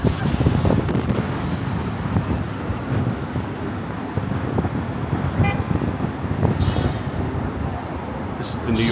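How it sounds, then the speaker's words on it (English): Strong wind buffets the microphone on a busy city street near Park Avenue and Grand Central in New York, a steady loud rumble with passing traffic and a brief car horn, continuous throughout. "It's a very windy day in the city as is."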